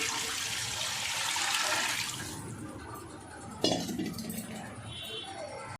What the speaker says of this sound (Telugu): దీని నిండా వాటర్ పోసుకుంటున్నాను